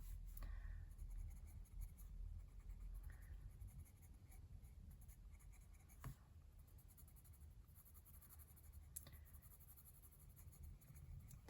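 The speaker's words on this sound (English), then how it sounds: "right now I'm really just shading with 1 or 2 pencils a specific area" Faber-Castell Black Edition colored pencils shade an area of paper, a soft continuous scratchy scraping close to the mic, quiet and steady, with a few sharper taps of the pencil along the way.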